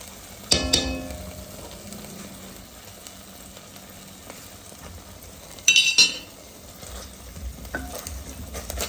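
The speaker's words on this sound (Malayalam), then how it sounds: "ജിഞ്ചർ ഗാർലിക് പേസ്റ്റ് നന്നായിട്ടൊന്ന് വഴറ്റണം." Ginger garlic paste sautés in a hot pan with a soft, steady sizzle, while a spoon stirs it and clinks against the metal in a few brief, sharper clatters.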